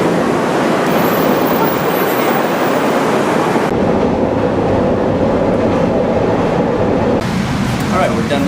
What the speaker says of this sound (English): We're taking the CTA train to a CSX yard.